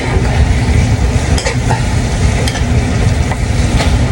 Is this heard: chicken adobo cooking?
yes